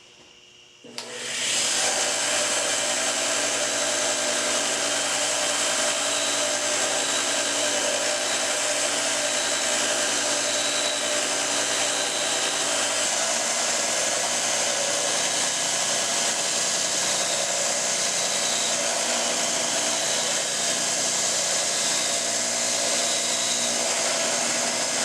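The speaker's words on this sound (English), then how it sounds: "I'll grind it in myself on the belt grinder" A belt grinder grinds a safe edge onto a metal file, a loud continuous whirring and rasping roar that starts after a quiet second and holds steady, close by.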